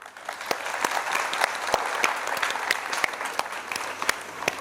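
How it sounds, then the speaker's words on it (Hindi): Audience applause for a young pupil at a Gujarati-medium primary school annual function, a dense steady clapping from a crowd with sharp individual claps standing out, sustained throughout at moderate distance. "शिवांश के लिए तालियां।"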